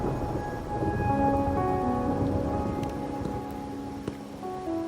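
Rain and thunder in the video game Wuthering Waves, a steady wash of falling rain with low rumbling beneath and soft game music tones running over it, continuous throughout with no talk.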